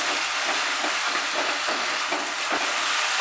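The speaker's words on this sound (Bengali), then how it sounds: "মাঝারি আঁচে ফ্রাই করছি" Ginger garlic paste frying over medium heat for a fish and pointed gourd curry, giving a steady loud hiss with faint periodic stirring scrapes and no talk.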